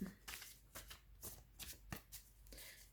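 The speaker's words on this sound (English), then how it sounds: "it takes a bit longer when I shuffle on camera" Playing cards being shuffled by hand, a series of quick riffling bursts in an uneven rhythm, close and fairly quiet.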